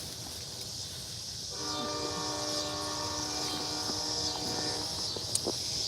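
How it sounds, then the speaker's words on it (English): A train passes at a distance near a home garden, with a steady rumble under faint outdoor noise. Its horn then sounds as a long, sustained blast lasting several seconds. "Y'all know I can't have a video without that train."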